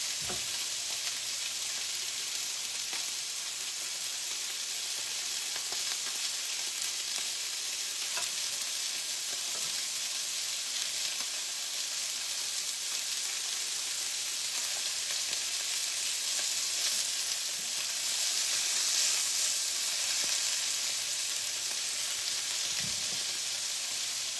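Grease sizzling steadily in a frying pan on a lowered burner while chicken cooks before spinach goes in, a continuous bright hiss with faint clinks, no talking.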